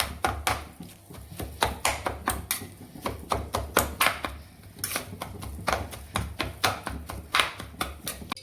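Roasted eggplant being finely chopped for bharit, a quick run of sharp knife strikes on a board, irregular but steady, close and loud, with no talk.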